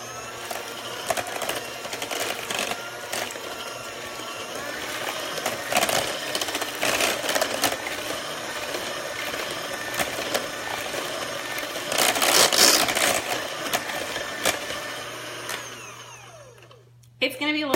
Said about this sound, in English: I can put my mixer together